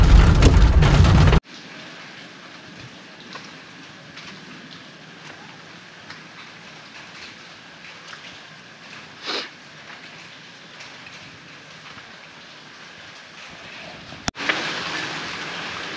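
Steady heavy rain hisses throughout at a riverside resort in Dandeli, a continuous wash of falling water with a louder burst at the start and end and one brief thump midway.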